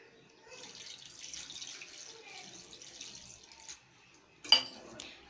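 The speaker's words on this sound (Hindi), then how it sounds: "1 ग्लास भरकर पानी डालेंगे।" A glass of water is poured into a pan of restaurant-style kadai paneer, giving a soft, steady rushing pour that ends in a sharp splash, with no talking.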